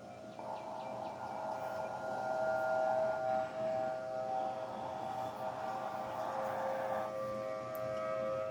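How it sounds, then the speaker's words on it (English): Tornado warning sirens sound across the city of Rensselaer, Indiana, a steady, loud wailing tone that holds and shifts pitch over several seconds, with no voices. "The sirens are going up in the city of Rensselaer."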